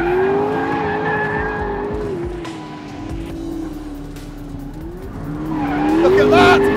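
A 916-horsepower McLaren P1 with traction control switched off, its tires squealing and skidding in long wavering screeches over a loud, rising engine roar on a track, with a voice talking at times.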